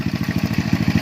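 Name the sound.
motorcycle engine running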